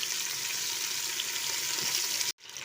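Two medium-cut onions fry in ghee in a pan, giving a steady, close, broadband sizzle that runs without a break and then drops out suddenly near the end before quietly resuming.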